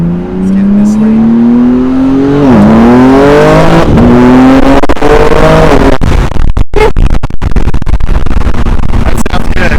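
A BMW G80 M3 with an ARM Motorsports mid-pipe revs and accelerates on the road, a loud, close, continuous growling exhaust rising in pitch through a gear change and then breaking into crackling bursts.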